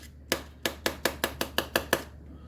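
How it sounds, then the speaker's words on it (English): A knife chops mushrooms on a board with eight crisp, evenly spaced strikes in quick succession, heard close and clear with no other sound. "No rhyme or reason how to chop up these mushrooms, just chop them up"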